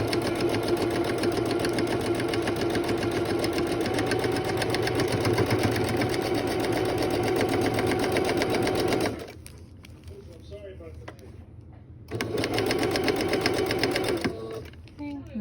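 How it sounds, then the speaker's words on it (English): A sewing machine stitches a seam forward and then back, running in a steady, close, continuous whir for about nine seconds, pausing briefly, then whirring again for a couple more seconds. "do a few stitches forward, and then I like to go back, as always, to make sure that the seam is nice and strong"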